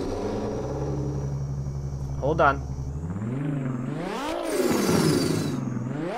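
A loud Nissan Skyline drift car engine, idling with a steady low rumble, then revving up and down in rising and falling sweeps close by, with a person speaking briefly over it.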